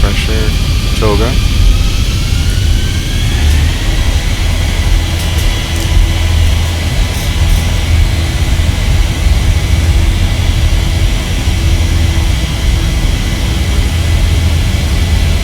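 Boeing 737-800 engines in the X-Plane 12 flight simulator spooling up to takeoff thrust: a loud, steady, deep roar with a rising whine, under occasional talk.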